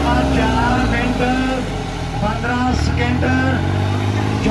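A New Holland 3630 tractor drags 20 harrows in a competition run, its engine droning loud and close with a shifting pitch as it pulls, while people talk over it.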